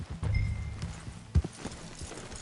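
Horse hooves clip-clop in a video game, a few soft, irregular hoof thuds near the listener with a low tonal hum and a sharper knock midway, no talk over them.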